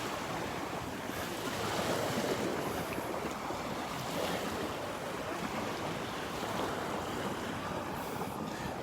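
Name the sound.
waves on a beach in North Naples, Florida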